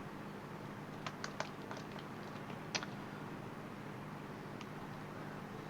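Faint, scattered keystrokes on a computer keyboard while writing Dart code, a few quick clusters of taps and one sharper click over quiet room hiss.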